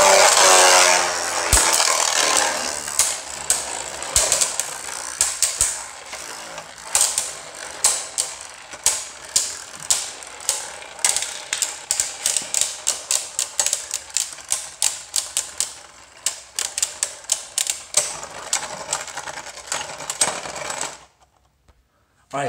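Beyblade Burst tops Spriggan Requiem and Geist Fafnir clash in a plastic stadium: dense rapid clicking and rattling at first, thinning into sharp irregular ticks and scrapes before stopping abruptly near the end.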